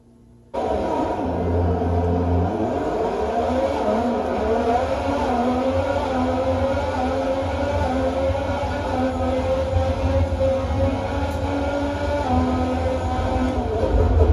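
Racing cars in an arcade video game roar steadily and loudly throughout, a dense engine drone with shifting pitch that starts abruptly after a brief quiet moment.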